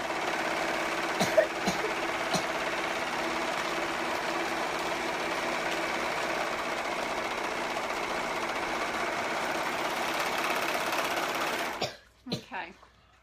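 A sewing machine stitches the hem of a costume dress in a long, steady, close whir that stops near the end, followed by a few clicks and knocks.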